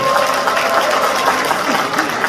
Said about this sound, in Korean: 큰 박수 보내주시기